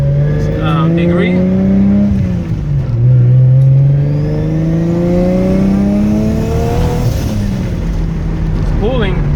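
A Mazda RX7 with a swapped 1JZ engine and Precision 6266 turbo accelerates hard through several gears, loud and close from inside the car, the engine note climbing and dropping at each shift while a voice talks over it.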